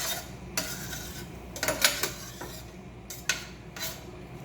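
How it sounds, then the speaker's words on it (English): Diced turkey and onion cook in a pan with a little turkey juice, giving a soft continuous sizzle under scraping and clinking utensil strokes against the pan. "Just gonna saute this down."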